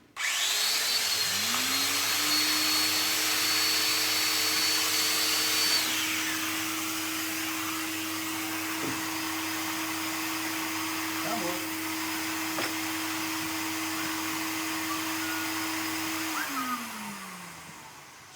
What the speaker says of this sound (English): just waiting for the vacuum cleaner to turn